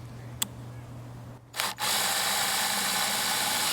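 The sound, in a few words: impact wrench tightening a nut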